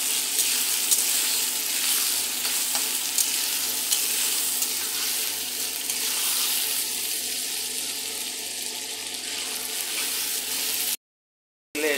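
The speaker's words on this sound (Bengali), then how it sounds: "টমেটোটা দিয়ে দিচ্ছি। টমেটোটা একটা কাঁচা গন্ধ করবে, এই জন্য টমেটোটা" Tomato pieces frying in hot oil in a pan, a steady, dense, loud sizzle that runs unbroken for about eleven seconds and then cuts to silence.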